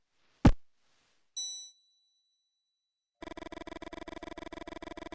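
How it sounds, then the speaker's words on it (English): A bell in the game Mothmen 1966 strikes one loud clang, followed by a second ringing chime with a long sustained tone, then gives way to a dense rhythmic chiming pattern that continues to the end. "Suddenly, the bell rings"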